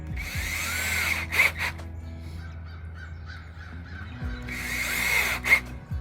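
A power drill whirs in two sustained bursts, rising in pitch as screws drive in, with a quieter stretch of background noise between them.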